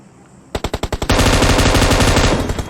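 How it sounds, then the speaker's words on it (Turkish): Gunfire comes from above in the PUBG video game: a quick string of separate sharp shots, then a dense, continuous automatic burst, loud and close, with no voices. "Bak yukarıdan biri vuruyor bak."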